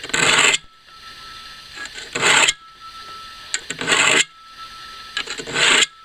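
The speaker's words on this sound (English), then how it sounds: "We're already sharpening." A block sharpener rasps along an axe blade in repeated short, gritty strokes, each a bright scraping burst separated by brief pauses, close and clear.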